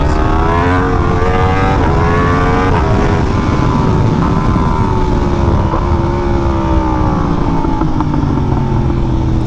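A Yamaha R1M motorcycle being ridden, its engine very loud and close with a layered harmonic whine that rises and falls through gear changes, over heavy wind rush.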